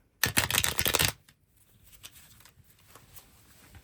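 A deck of tarot cards is shuffled once, a quick riffling flutter close up lasting under a second, followed by quiet handling sounds and faint rustling.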